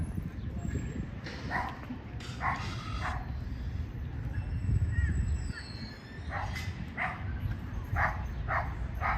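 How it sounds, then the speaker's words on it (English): A German Shepherd barks in a Toronto park with a big-dog side, several sharp barks and yips spread through the stretch over steady outdoor background noise. "There's a handsome German Shepherd."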